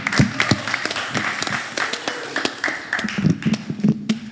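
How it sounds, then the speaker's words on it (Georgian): Scattered hand clapping from a press conference audience for an MMA promotion, uneven and moderately loud, with individual claps standing out rather than merging into a dense roar, lasting throughout. "აპლოდისმენტებით გავაცილოთ"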